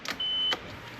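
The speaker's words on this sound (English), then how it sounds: "You should hear the fuel pump turn on." A 1993 Nissan Skyline with an RB20DET engine primes its fuel pump, a brief electric whir lasting about a third of a second, close and steady, bracketed by faint clicks.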